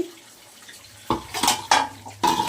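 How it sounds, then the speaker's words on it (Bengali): A metal lid lifts off a pot of country chicken and potato curry with several close, sharp clanks and rattles, followed by brief scraping clinks. "এবার আপনারা দেখুন আমি ঢাকনাটা খুলে দিচ্ছি"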